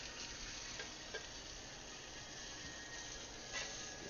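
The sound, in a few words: steak sizzling while basted in butter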